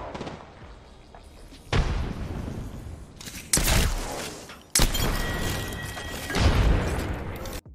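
Frag grenade explosions in the video game Apex Legends, with three or four loud booms set a second or two apart, each followed by a long rumbling tail.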